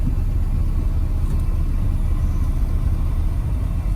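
Engine of a 1973 Triumph Spitfire 1500 running under throttle: a steady, loud, low rumbling drone that holds fairly even without clear rev peaks, close by and alone without talk.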